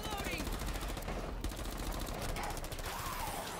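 Rapid automatic gunfire from a machine gun in the Rainbow Six Siege Outbreak video game, a dense continuous rattling burst that holds steady and loud for the whole span.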